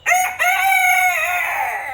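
A rooster crows loudly and close, one sustained cock-a-doodle-doo call in a backyard flock of silkie and Polish chickens, with no talking over it.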